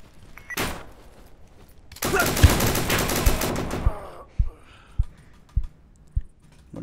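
Rifle gunfire in the video game Deadside: a sharp shot near the start, then a dense two-second burst of rapid loud fire, followed by five or six spaced single shots, quieter and farther off.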